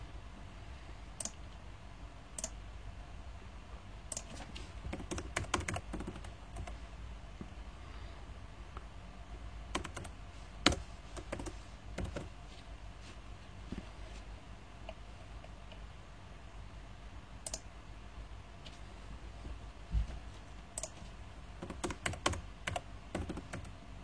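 Someone types on a computer keyboard while setting up openmediavault firewall rules, producing irregular bursts of close, crisp key clicks and taps with short pauses between them and no talk.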